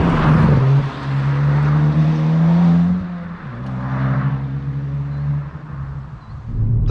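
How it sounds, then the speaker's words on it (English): A 2022 Hyundai i20 N engine gives a close, steady bassy thrum that rises in pitch under acceleration, dips at a shift, then climbs again. "The engine sound in particular is just a nice thrum, a nice bassy thrum to it"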